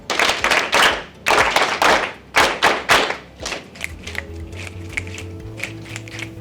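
An audience at a business leaders' breakfast in a Nairobi hotel claps in unison in rhythmic sets of three sharp, loud claps, repeating several times before breaking into looser scattered clapping and low chatter.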